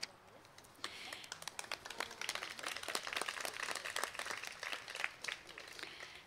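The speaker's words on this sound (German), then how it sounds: "Applaus" Audience applause at an award ceremony, a steady wash of clapping that starts abruptly and continues at moderate level without voices.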